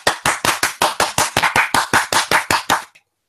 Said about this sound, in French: Bien joué, on applaudit.